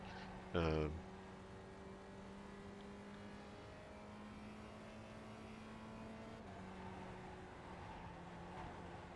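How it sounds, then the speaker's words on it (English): Spec Ford race car in iRacing with its engine note holding and shifting as the throttle is worked, steady and moderately loud, with a brief sharp burst near the start. "You can hear how I'm working the throttle a little bit different going through there than versus that qualifying lap"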